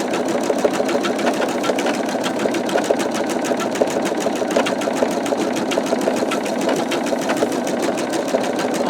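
An embroidery machine stitches out a skull design, a steady, loud rapid needle chatter running continuously without pause and without any voices.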